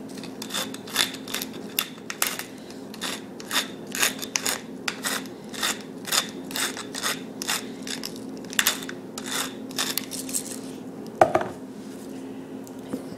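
Salt and pepper grinders cranked over a steak, a steady run of crisp rhythmic grinding bursts, close and fairly quiet, with one sharper clack near the end.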